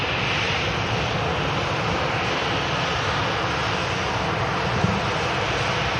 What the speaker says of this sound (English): The Emirates Airbus A380 going to be departing back to Dubai. Just being pulled forward slightly there by the ground ups